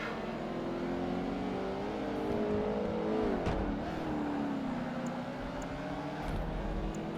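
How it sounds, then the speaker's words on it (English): A Ferrari F40's turbocharged engine in Project Gotham Racing 2 drones steadily, its pitch sliding down and back up through gear changes and a brief dip, loud and continuous with no voices. "All I can hear is the turbos of the F40"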